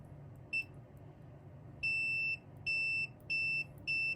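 A multimeter gives continuity-test beeps while probing a fuse on an amplifier: one short high tone, then four sustained beeps in an uneven rhythm, clear and close over a faint low hum, with no talking.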